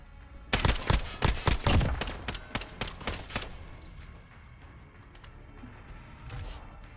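M13 assault rifle firing in Call of Duty: Modern Warfare, a loud, rapid stream of automatic shots for about three seconds, then a fading echo and low background rumble.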